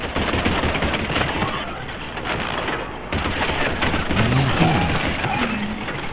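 Rapid automatic gunfire from a Mass Effect 3 firefight on PS3: dense, continuous bursts of shots that run almost without a break, loud and close, with faint battle noise behind.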